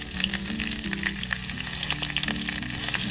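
Green chillies fry in hot oil in a wok set on a wood-fired stove, giving a continuous crackling sizzle with scattered pops, close and moderately loud, with no talking.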